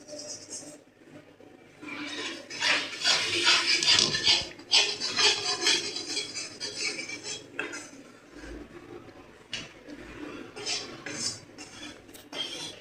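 Wheat flour being roasted in oil and ghee for Ashoka halwa, with busy scraping and clinking of a spoon against the pan, close and fairly loud, easing off toward the end.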